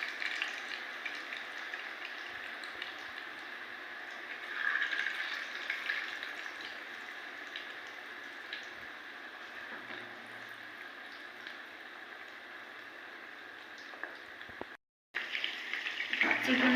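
Spicy chicken pieces frying in a kadai make a continuous, even sizzling hiss that holds steady throughout, with a brief gap near the end.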